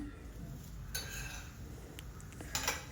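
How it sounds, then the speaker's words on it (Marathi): A spatula scrapes and clinks against a hot griddle while a rava onion uttapam is flipped, with a steady frying hiss underneath and a few sharp metallic taps near the end. "तर आपण उत्तप्पाला पलटी करून घेऊया"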